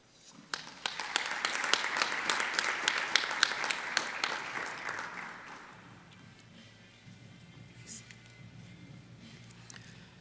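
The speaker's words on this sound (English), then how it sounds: "Please, a round of applause to the gentleman with the VC again" Audience applause for the vice-chancellor at a university fraud awareness event. Moderate, scattered clapping builds and holds for about five seconds, then dies away into quiet room tone with a faint voice afterward.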